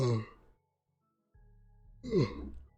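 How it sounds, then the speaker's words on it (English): A single drawn-out yawn, a breathy exhale trailing off into quiet, then a second voiced sigh-like breath, close and clear. "sorry, yawning."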